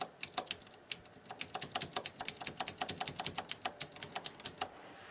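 Rapid, crisp clicks from a mechanical keyboard with blue switches, keys struck in quick uneven bursts, each press a sharp close-up click, typing steadily with no voices.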